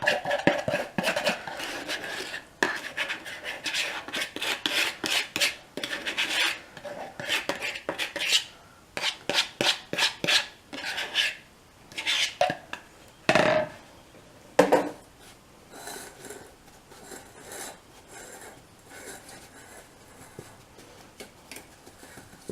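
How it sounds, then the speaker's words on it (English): Crust pressed into a springform pan while making an Instant Pot pumpkin pie, giving a run of close, irregular scrapes, taps and clinks of metal and utensils in bursts, with short pauses and no voices. "And I'm just going to start pressing it into the pan."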